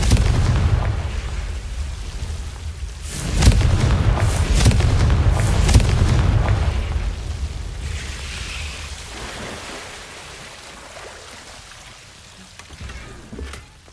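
Incendio and Confringo spells explode in Hogwarts Legacy, heavy booming blasts with deep rumble, a second burst around the middle, then a rolling fade into quieter game ambience.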